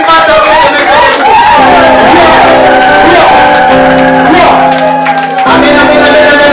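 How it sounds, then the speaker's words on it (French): Wedding guests at a religious ceremony cheer and shout loudly, with a voice rising over the crowd and a sustained tone underneath, a dense, close, continuous noise throughout. "Nous applaudissons très très fort."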